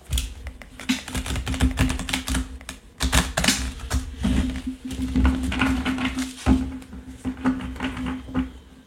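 Oracle cards being shuffled by hand, quick papery riffles and taps in uneven bursts close up, fairly loud and continuous over several seconds without speech.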